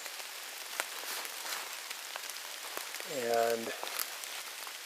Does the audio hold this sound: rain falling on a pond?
yes